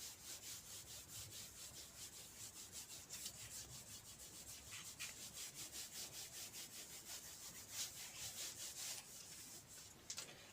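Writing is rubbed off a board during a classroom history lecture, with quick, rhythmic back-and-forth scrubbing strokes repeating steadily and fairly faintly throughout, without talk.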